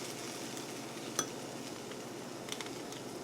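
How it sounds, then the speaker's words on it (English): Cooked vegetables scooped out of a stovetop pan over a faint ongoing sizzle, with a few light clinks of utensil against pan, quiet and close. "I'm going to scoop them from the stove"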